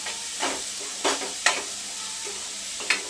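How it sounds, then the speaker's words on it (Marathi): Moth beans sautéing with onion and turmeric in a pan give a soft steady sizzle, broken by a few scraping stirs and light utensil taps at intervals, close and moderately quiet with no talking. "मटकी आपल्याला कांदा हळद आणि सोबत परतून घ्यायचे"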